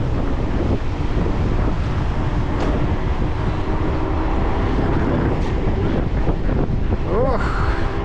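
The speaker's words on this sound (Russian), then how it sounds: "Ох, как тут ветрено, однако." Strong wind buffets the microphone on a Crimean coastal trail near Yalta in January, a loud, steady roar with surf-like rumble throughout and a brief rising whine near the end.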